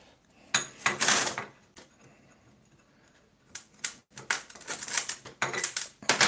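Pruning shears cutting a long branch on a little jade bonsai, bursts of close snipping and rustling clicks separated by quiet pauses, with a dense flurry near the end.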